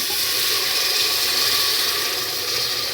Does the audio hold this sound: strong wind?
no